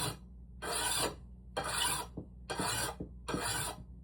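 Vintage draw knife blade being sharpened on a diamond stone: five steady, evenly spaced rasping strokes, each about half a second long, close and moderately loud, with no talking.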